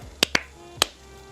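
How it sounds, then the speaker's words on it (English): Sharp sync claps for lining up separately recorded audio and video: two quick close cracks, then a third after a short pause, crisp and alone over a quiet room. "I do a little clap"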